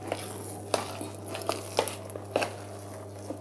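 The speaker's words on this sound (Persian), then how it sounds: "من بقیه این رو با قاشق مخلوط میکنم." A spoon clinks and scrapes against a bowl in irregular taps while bean patty mixture is stirred, with a steady low hum underneath.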